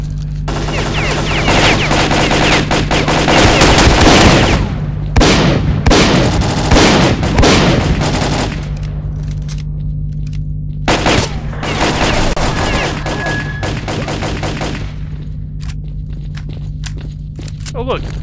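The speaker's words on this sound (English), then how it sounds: "you are the worst grenade launcher ever" Gunfire and explosive bursts from a grenade launcher and other weapons in the shooter game S.T.A.L.K.E.R.: Call of Pripyat, loud clusters of shots and booms over a steady background hum, with a voice talking throughout.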